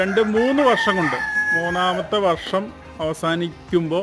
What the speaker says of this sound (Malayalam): പുറകിൽ നിന്ന് പൂവൻ കോഴി പോകുന്നുണ്ട് കേട്ടോ